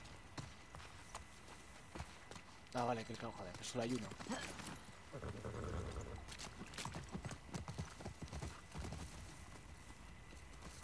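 Horse hooves clip-clopping in the video game The Last of Us Part II, quiet rhythmic steps in the background while someone talks over them.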